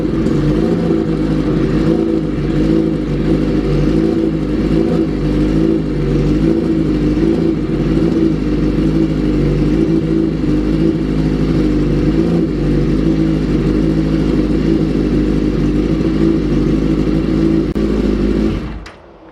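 Hayabusa-engined sand rail engine running steadily after an oil change, a loud, close, continuous idle with a throbbing low-mid hum and faint clatter, cutting off abruptly near the end.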